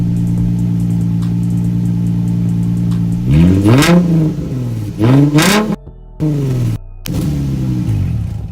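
A Nissan 350Z with a new straight pipe exhaust idles with a deep, loud drone, then revs sharply several times in quick succession, each rise and fall close and raspy.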